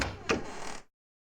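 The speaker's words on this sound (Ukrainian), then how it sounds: "Двері відчинилися?" A door in a horror video game set in an abandoned house swings open with a short scraping creak and a soft knock, faint and brief, then cuts to silence.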